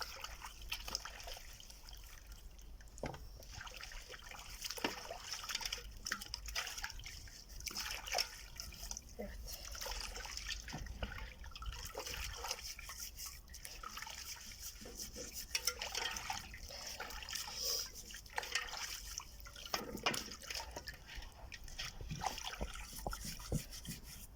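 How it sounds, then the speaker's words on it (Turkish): Water poured out in uneven splashes and trickles while cleaning kelle paça (a sheep's head), faint and close, with intermittent drips and rubbing between the pours. "Suyu dökeceğim çünkü."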